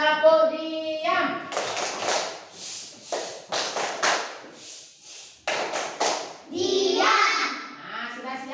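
Schoolchildren in a classroom perform a 'tepuk diam' clapping chant, bursts of rhythmic group clapping alternating with a teacher's and children's voices speaking and chanting between the claps.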